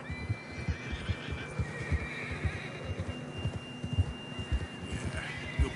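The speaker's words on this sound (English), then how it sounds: "John was riding that horse when we left Blackwater." A horse whinnies in a video game over steady clip-clop hoofbeats, with a low rhythmic thumping and faint ambient hum in the background.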